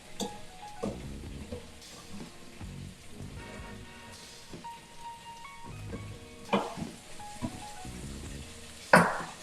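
Lemon pepper chicken frying in hot oil gives a continuous soft sizzle and popping crackle close by, with background music and a few louder clatters of kitchen handling.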